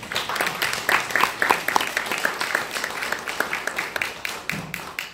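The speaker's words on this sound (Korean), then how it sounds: "발제와 논탄을 해주신 두 분 교수님께 다시 한 번 더 감사의 박수 드립니다" An audience at a Korean theology forum claps in thanks to two professors, a moderately loud round of many hands with distinct individual claps, continuing steadily throughout.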